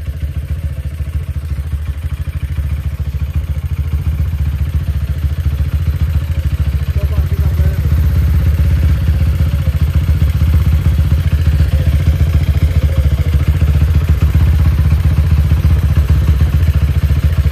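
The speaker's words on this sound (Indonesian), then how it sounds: "Sudah lama tidak terdengar suara motor ini." A Honda Tiger motorcycle engine, rebuilt with used parts, idles loudly and steadily nearby, with a deep rumbling throb and some mechanical clatter throughout.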